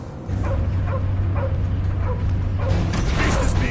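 Cosmo the dog in the Guardians of the Galaxy video game gives a rhythmic run of short barks and yips over a steady low mechanical hum, with game voices faintly present.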